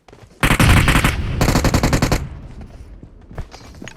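Dense automatic gunfire in the mobile battle royale game PUBG Mobile, two loud sustained bursts of rapid shots close by, then quieter scattered distant shots trailing off.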